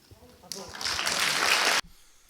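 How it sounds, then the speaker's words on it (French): Audience applause bursts in abruptly, swells into a dense, steady wash of clapping for over a second, then cuts off sharply, with a voice faintly audible before it. "Vous entendez les applaudissements. Les applaudissements sont éloquents."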